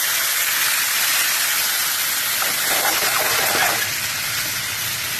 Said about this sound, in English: Add some white wine.